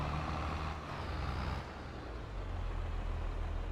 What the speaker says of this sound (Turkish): Abi şu traktöre bakar mısınız ya?